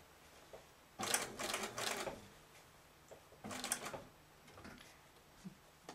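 A sewing machine stitches a curved quilt seam in two quiet bursts of rapid rattling, each about a second long, separated by pauses with faint handling clicks.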